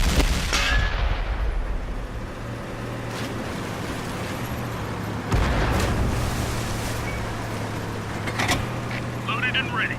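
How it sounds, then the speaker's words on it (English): A tank cannon firing in World of Tanks on Xbox, a few heavy booming shots spaced seconds apart over a constant low engine rumble, with a voice speaking over the battle. "Ready to fire on target."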